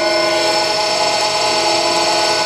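An Inca 560 planer runs at high feed speed, a steady, dense mechanical whine and hum with a bright, even tone that holds without change from start to finish.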